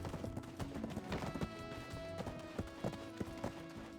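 Horse hooves clip-clop in a video game, a quick uneven run of close hollow knocks layered over tonal game music.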